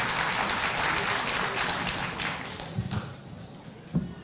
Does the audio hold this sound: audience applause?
yes